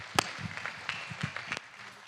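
Scattered, uneven claps from a church congregation at a French-language service, a handful of sharp hand claps spread across a couple of seconds over quiet room tone.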